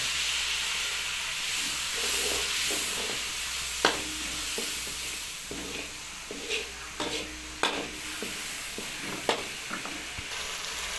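Chicken masala simmering in a pan after a splash of water, with a continuous loud sizzle and hiss punctuated by several sharp stirring clicks and scrapes, no voices.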